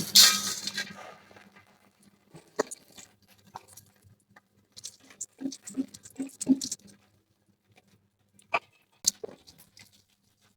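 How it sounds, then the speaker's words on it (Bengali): Dry chili, bay leaves and white cumin hit hot mustard oil, giving an initial hiss followed by sparse, quiet crackles and pops scattered across a mostly still background. "দেখো তেলটা গরম হয়ে গেছে এখন আমি ফোড়নে দিয়ে দিচ্ছি একটা শুকনো লঙ্কা দুটো তেজপাতা আর সাদা জিরে"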